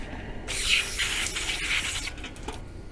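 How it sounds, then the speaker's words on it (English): A steady spray of parts cleaner hisses from an aerosol can in a long close burst onto a Force 120 HP outboard motor's fuel system, then sputters briefly near the end, with no talking. "Let me get some parts cleaner and we'll give this a spray down."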